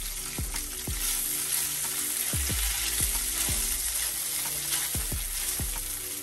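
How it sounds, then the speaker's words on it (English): Seafood sizzles steadily in a hot pan while being pushed and stirred, with a continuous frying hiss broken by repeated low scraping knocks of the utensil against the pan. "Just going to push them around in this pan just a little bit."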